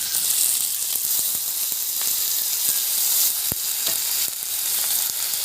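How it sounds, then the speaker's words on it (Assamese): Ginger and garlic frying in a wok with chopped onion and chilli for a pork dish, giving a steady, loud, close sizzle with scattered sharp pops and crackles throughout, no voices. "আদা নহৰুখিনি দি দিম"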